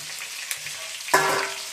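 Onions tipped into a hot pan with chillies already in it, bursting into a loud sizzle near the end after a quieter, low-level fry at the start.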